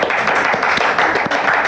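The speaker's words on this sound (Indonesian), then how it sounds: "Kita beri tepuk tangan yang meriah." A classroom full of people bursts into loud, dense applause, a continuous wash of many hands clapping at close range and going on the whole time.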